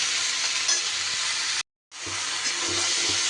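Mixed vegetables for a vegetarian dish sautéing in a pan while being stirred, a loud, steady sizzle with scraping stirs, broken by a brief silent gap before the frying resumes.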